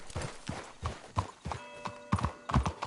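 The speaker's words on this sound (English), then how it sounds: "Can't you control that damn horse?" A horse in the Red Dead Redemption 2 video game clops along in a quick, uneven rhythm of hoofbeats, with a brief whinny partway through and no talking.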